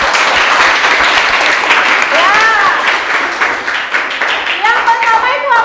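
Students clapping in a classroom during a lesson on acids and bases, a steady dense patter that fills the whole stretch, with a few cheering voices rising over it.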